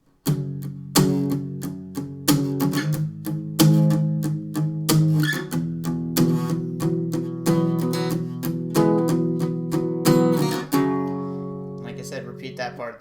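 Strummed guitar works through the second part of the verse of a song in a cover version, steady down-and-up strums repeating close and clear with no talking, then ringing out briefly at the end.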